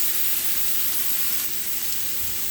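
Shrimp frying in hot oil for shrimp and grits, a steady loud close sizzle and hiss that stays even throughout with no talking.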